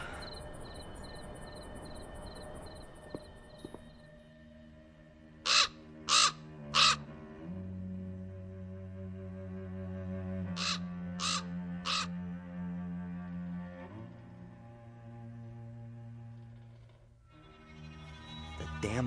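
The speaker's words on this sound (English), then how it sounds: "The damn bird again." A raven caws in Black Mirror 2, three harsh caws, then a pause and three more, ringing out clearly over a sustained eerie tonal drone and a faint insect-like chirping.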